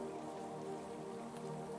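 Soft rainfall with raindrops pattering steadily, a quiet even wash of drops under a faint sustained tonal hum, with no voices.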